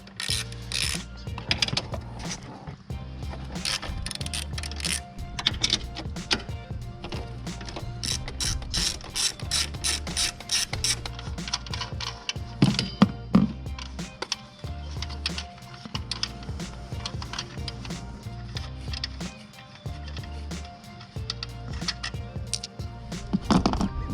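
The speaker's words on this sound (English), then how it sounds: "You're gonna need a deep socket 14 and to the left." A ratchet fitted with a deep 14 mm socket clicks in rapid bursts, loosening bolts on a Lexus RC F during a chassis strut brace install, close and steady with brief pauses between runs.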